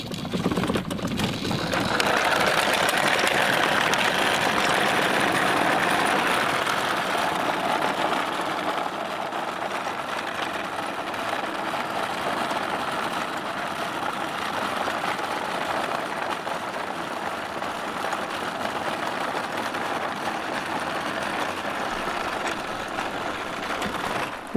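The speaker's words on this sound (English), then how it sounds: "Watch out, Elon. The wheelchair power wheels is coming." Battery-powered wheelchair vehicle driving, a steady mechanical whir and hum that holds at an even level throughout, slightly louder at the start.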